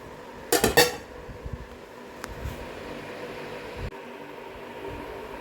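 A spoon clatters loudly against a bowl in one short burst while paneer pizza marinade is mixed, followed by a few faint taps and quiet room hum.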